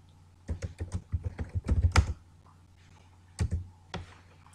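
Keystrokes on a computer keyboard while dish names are entered on a menu platform, a quick run of close, soft clicks, a pause, then a few more taps.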